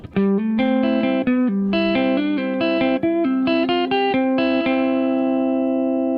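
An electric guitar plays a quick riff of picked single notes in a steady rhythm, two half steps down, the last note left ringing out alone.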